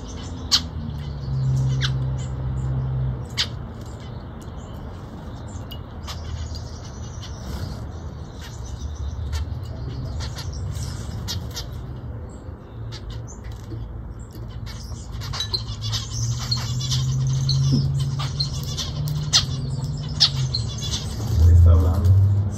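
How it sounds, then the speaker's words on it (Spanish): Pet birds squawking in sharp, repeated bursts as they chase each other, with scattered chirps over steady background noise and a person talking intermittently. "Sí, anda peleando Luciana con la pajarita, mira"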